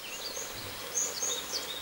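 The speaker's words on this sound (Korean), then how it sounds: "박새 같아요." A great tit calls in a garden with a vegetable patch, thin high chirps coming faintly from a little way off over a soft airy background.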